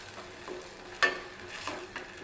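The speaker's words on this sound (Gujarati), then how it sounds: "બરાબર મિક્સ કરી લઈશું" Quiet stirring of soy sauce into a manchow soup in a pot, with a few soft scrapes and clinks against a low background hiss.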